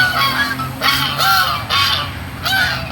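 Two kinds of geese, white and grey, honk loudly and repeatedly in a nearby flock, harsh overlapping calls coming in bursts with no speech.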